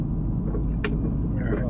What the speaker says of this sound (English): You got a little car noise from my wife and I